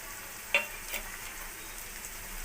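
Curry leaves and green chillies hit hot oil with onions in a pan, a brief quiet sizzle with a sharp spatter at the start and a faint stir, no talking.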